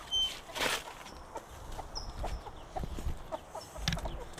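Chickens near a compost pile cluck in scattered, soft bursts, with one louder squawk early on, set against quiet outdoor rustling.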